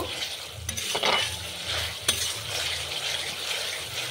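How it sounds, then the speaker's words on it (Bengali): Chili chicken fried rice being stirred in a pan, with soft scraping and light clinks of the utensil over a faint, steady sizzle, close and fairly quiet with no talk. "আবারও সব কিছুকে খুব ভালোভাবে মিশিয়ে নেব।"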